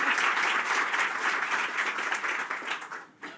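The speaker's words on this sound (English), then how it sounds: "So let's just give them all another round of applause." An audience claps for a lineup of panel speakers at a travel industry event, a steady wash of applause that thins and tapers off near the end.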